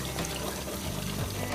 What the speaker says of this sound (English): Now that you have those potatoes nice and rinsed